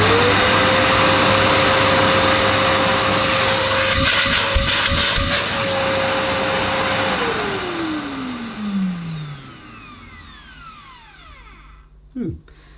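An egg-shaped Millenea Apollo 1 vacuum cleaner switches on, its motor whirring loudly and steadily, then winding down with a falling pitch as it is turned off, leaving a faint clunk near the end.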